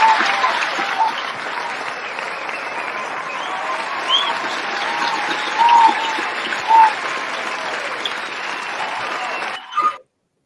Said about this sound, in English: We applaud you too, Doc.